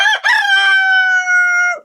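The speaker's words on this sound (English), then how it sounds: "But this rooster is really nice." A single rooster on a winter homestead gives one loud, close crow, a drawn-out cock-a-doodle-doo that tails off at the end.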